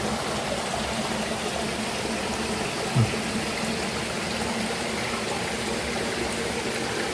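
Clear spring water flows out of the ground at a sacred spring site, a steady close rushing and gurgling that runs unbroken throughout, with one brief soft knock partway through and no talking.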